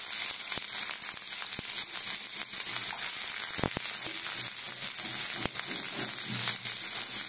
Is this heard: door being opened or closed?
no